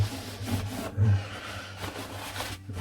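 Lemon oil being rubbed by hand into the wood of a 1970s acoustic guitar, soft close rubbing and scraping strokes over a low steady hum.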